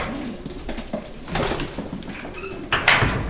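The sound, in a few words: racing pigeons in their loft pens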